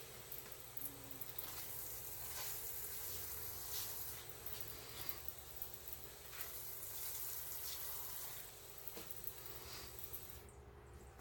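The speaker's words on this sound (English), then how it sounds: "Now we're going to put some more water on there." Water pours and trickles steadily onto soil in a seed tray of basil microgreens, a continuous soft splashing with no voices.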